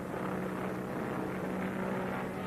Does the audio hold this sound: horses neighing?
no